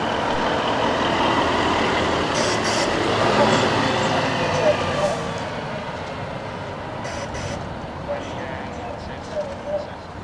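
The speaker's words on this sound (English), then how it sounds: "The sleek front of the 2014 Volvo moves past the camera, heading straight out the gate." A 2014 Volvo truck of 540 horsepower rolls past at a truck pull-off event and heads out a gate, a broad rumbling drive-by with crowd chatter and occasional shouts around it.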